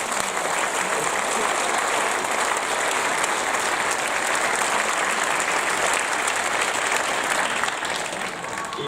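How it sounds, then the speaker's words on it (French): Applause for award winners at a French mayor's New Year ceremony: a loud, continuous wash of clapping from a packed hall, even and unbroken for nearly nine seconds. "Vous pouvez les applaudir, ils l'ont mérité."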